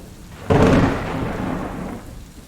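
A low, rolling clap of thunder breaks suddenly over steady rain, booming loud at first and then fading slowly back into the hiss of the downpour, with no voices.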